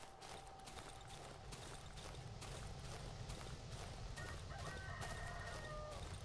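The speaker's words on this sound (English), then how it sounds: "Because it sounds like just like a normal chicken." In the survival horror game Darkwood, a chicken clucks and crows in short repeated calls over a busy, rustling ambient bed with steady rhythmic clip-clop-like taps, moderately faint and with no speech.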